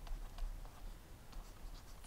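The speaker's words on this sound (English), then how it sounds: "Write that one out for you." Marker or chalk scrawls across a classroom board as the word chlorofluorocarbons is written out, soft scratchy strokes in quick bursts, faint against a low room hum.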